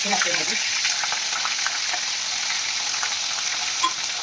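Paneer pieces fry in hot oil in a pan, giving a steady, close sizzle that holds evenly throughout with faint stirring clinks.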